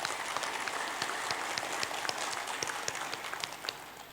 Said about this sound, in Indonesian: Aplaus satu.